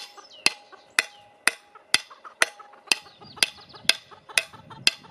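Broken garden rake being hammered back together in a garden, ten sharp, evenly spaced metallic blows about half a second apart, loud and close, with faint birds and rustling between strikes.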